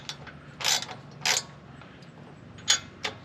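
A ratchet socket wrench clicks in short bursts while tightening a brake-line bolt on a new bracket of a 2021 Ford Bronco, with four distinct ratcheting strokes separated by brief pauses.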